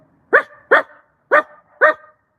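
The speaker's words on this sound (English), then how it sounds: "In the past it was Miss T's dog, but no, it's another dog." A dog barks four times in a loud, close, evenly spaced run of sharp woofs with short gaps between them, and no one speaks over it.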